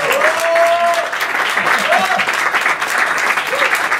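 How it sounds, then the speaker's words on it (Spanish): An audience at a book presentation in a bar breaks into sustained, close applause that lasts throughout, with voices and cheers mixed in among the clapping. "Esto ya es para que aplaudáis, así al final."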